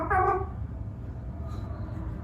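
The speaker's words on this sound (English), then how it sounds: "you hear my cat? She always likes to join for videos." A pet cat gives one short, clear meow up close at the start, followed by a low indoor hum and a faint trailing tone, with no talking.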